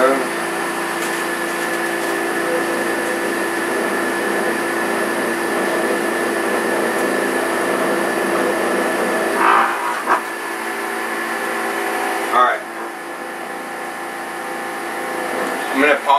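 A juicing machine whirs steadily and loudly while making juice, a constant motor drone with a few brief clunks near the end.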